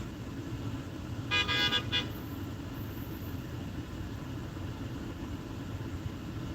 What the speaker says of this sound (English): He get past the cop car, and he beat the horn at me.